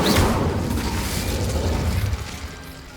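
Incendio fire spell cast in Hogwarts Legacy, a sudden burst of crackling flame and a whooshing blast that fades over a couple of seconds.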